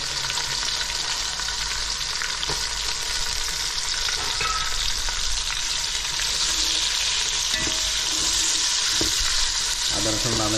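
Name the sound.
frying ginger, garlic, onion for chicken biryani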